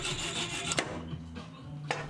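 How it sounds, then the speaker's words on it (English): Hacksaw cutting brass rod to length, a steady back-and-forth rasping of the blade in close, even strokes with a few sharper clicks, alone with no talk. "I cut some of the brass to length using a hacksaw"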